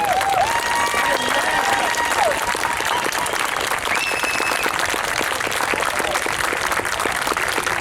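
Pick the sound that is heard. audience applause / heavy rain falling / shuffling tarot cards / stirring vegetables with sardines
audience applause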